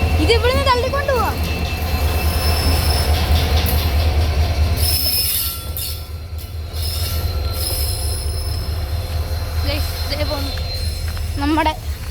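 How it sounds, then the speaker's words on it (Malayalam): An Indian Railways train running on the Punalur to Aryankavu line, heard from on board: a constant low rumble of wheels with repeated high metallic squeals and some rhythmic clatter, with people talking over it. "നമ്മുടെ ഇന്ത്യൻ റെയിൽവേ വണ്ടി."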